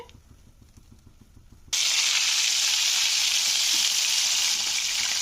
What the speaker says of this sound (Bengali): তেলটা গরম করে মাছের মাথাটাকে আমি ভেজে নিচ্ছি